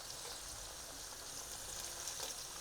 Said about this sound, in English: I'm literally pan frying it.